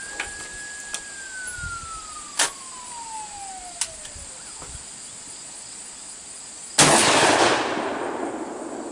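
A single shot from an SS12 12-gauge break-open single-shot shotgun, a sharp loud broadband blast that trails off into a decaying echo, heard outdoors after a few faint clicks and insect chirps.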